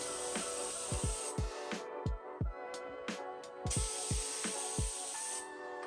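A spray gun hisses while spraying primer on a school bus conversion, long continuous bursts pausing briefly between passes, with soft clicks and low knocks of handling underneath.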